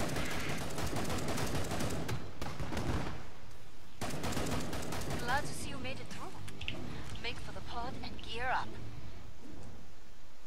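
Rapid bursts of gunfire in the zombie shooter game Killing Floor 2, dense and loud for the first several seconds, then thinning out as voices and game sounds take over.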